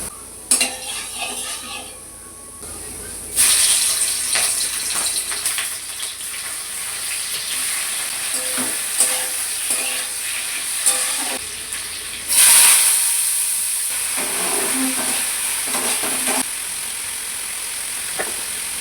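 Bitter gourd and potatoes being stirred and fried in a wok, with a spatula scraping and clinking against the metal over a steady hiss, continuing without talk.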